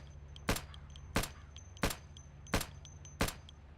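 Five unsilenced gunshots in a video game crack out at an even, unhurried pace, each a sharp burst over a low background hum, with no talking.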